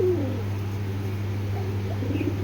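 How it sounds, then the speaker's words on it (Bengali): A pigeon coos softly in a loft where pigeons are kept, low repeated calls over a steady low hum, faint and fairly close, with no talking. "বারুদ একটা কবুতর"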